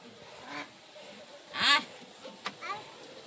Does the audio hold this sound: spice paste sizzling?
no